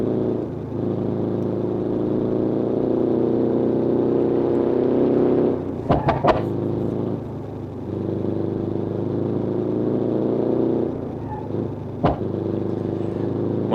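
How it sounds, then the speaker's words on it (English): A car engine in the driving game BeamNG.drive, on an Italian setting, held at high revs and over-revving with a loud steady drone, briefly cut by a few sharp bursts and dips. "So you can over-rev the engine"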